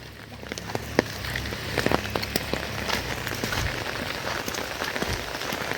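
Light rain patters steadily on a surface, with scattered individual drops ticking clearly and sharply against a soft, constant background hiss.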